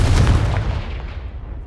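A Confringo blasting spell goes off in Hogwarts Legacy, a single loud, deep explosive boom that hits at once and then fades into a rumbling decay.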